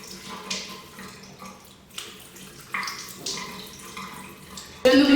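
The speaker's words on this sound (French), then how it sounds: "je vais toujours rincer ma peau" Water splashes intermittently as a face is rinsed with lukewarm water, soft uneven splashes and trickles close by, with a louder burst of running water near the end.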